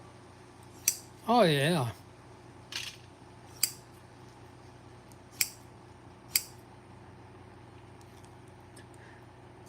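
Freshly sharpened pinking shears cutting, heard as a handful of crisp, separate snips spaced a second or more apart in a quiet room, with a brief spoken voice near the start.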